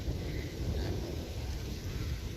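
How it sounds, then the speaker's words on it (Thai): Wind gusting across open rice paddies after heavy rain, a constant broadband roar buffeting the microphone, loud and steady throughout with no talking. "ฟังเสียงลม นี่ครับ เห็นไหมเสียงลม"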